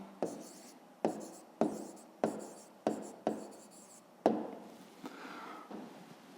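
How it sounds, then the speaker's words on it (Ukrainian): Pen or chalk writing an answer by hand for a fifth-grade math exercise, with a series of sharp taps and scratchy strokes close up, spaced about every half second, then a longer scrawl at the end. "Записуємо тоді відповідь."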